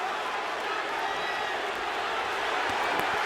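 Boxing arena crowd roaring continuously during the Hopkins–Tarver fight as Bernard Hopkins presses his attack on Antonio Tarver in the fifth round, a dense, steady wall of cheering with no clear break.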